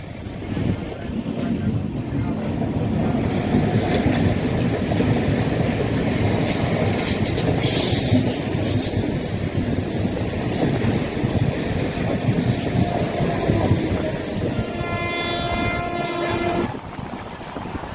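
The Konark Express rolls along the rails on a monsoon run from Mumbai to Solapur: a loud, steady rumble and clatter of wheels throughout, with a horn-like tone near the end.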